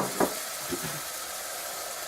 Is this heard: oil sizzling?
yes